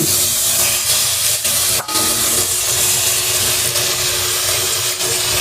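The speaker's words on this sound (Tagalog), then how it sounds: "Medyo malambot na yung ating onion. Ilagay natin yung ating isdang tuna." Tuna hits a pan of softened sautéed onion and sizzles loudly, a constant close hiss with slight pulsing and a brief sharp crackle near the two-second mark, with no voices over it.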